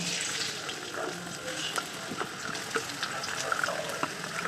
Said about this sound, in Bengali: এই গরম তেলের ভেতরে পেঁয়াজ কুচি দিয়ে একটু ভেজে নেব